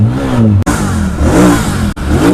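A Jawa 42 or Royal Enfield motorcycle exhaust revving hard up and down close by, a loud, throaty engine note rising and falling in quick pulses with two brief cuts.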